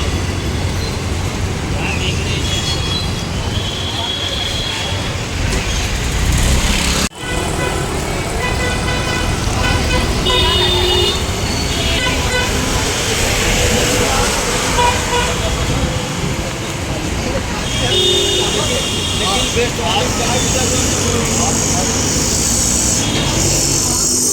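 Buses and other traffic pass one after another on a busy city road in Nalasopara, with engine rumble, horn toots and a crowd's chatter mixed throughout, loud and close.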